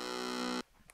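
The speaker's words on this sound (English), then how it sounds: "Let's do distortion." A detuned synth with distortion switched on plays one sustained, buzzy, harmonic-rich note for about half a second, then cuts off abruptly and leaves faint room noise.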